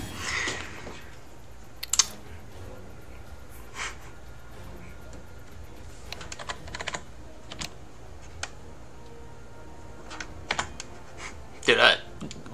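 Rapid bursts of typing on a computer keyboard during a gaming session, with clusters of sharp clattering keystrokes spread irregularly through the stretch and a louder flurry near the end, set against quiet background noise.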